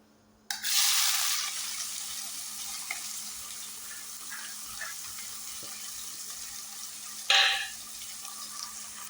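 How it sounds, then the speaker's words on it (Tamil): Sliced onions dropped into hot oil in a pan, bursting into a loud broadband sizzle that settles into steady frying with faint stirring clicks, then a second sharp surge of sizzling near the end. "இப்போ நம்ம ஃபர்ஸ்ட் எடுத்து வச்சிருக்கிறது வெங்காயத்தை வந்து போட்டுக்கலாம்."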